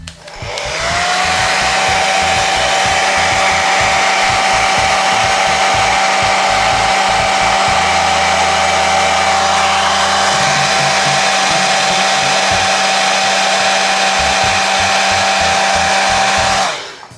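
A hair dryer blows steadily and loudly for the whole stretch, with a constant high whine and a rumbling motor, switching off at the end.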